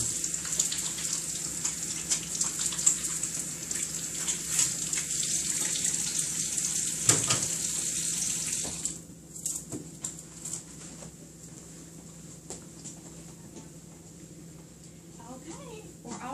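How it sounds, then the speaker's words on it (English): Hands washed under a running tap, the water streaming steadily for about nine seconds before stopping, followed by quieter room sounds and faint bird calls in the background. "I'm going to go wash my hands, and then I'll be right back"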